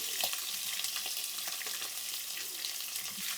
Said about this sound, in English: So there's some peppers going in there now. Some onions and garlic.